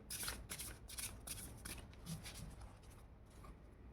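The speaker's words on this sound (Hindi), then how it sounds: "चलिए 2 कार्ड और लेते हैं इस वाले डेक से कि थोड़ी और क्लियरिटी मिले।" Tarot cards are riffled and shuffled in quick, crisp bursts close to the microphone, a rapid papery flutter over the first few seconds that fades into quieter handling as cards are drawn.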